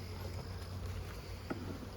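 Honey bees hum steadily inside an open hive being checked after a killing frost, a soft continuous buzz with faint outdoor noise and a brief knock near the end.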